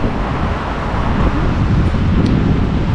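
Strong wind buffets the microphone in a loud, continuous low roar outdoors in Estonia, with distant traffic-like rumble underneath.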